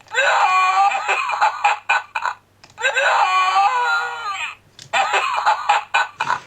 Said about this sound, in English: He has a scream and a laugh, and I don't think he has anything else